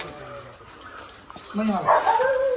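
A puppy gives a short bark and some whining yelps, close by, over faint background noise.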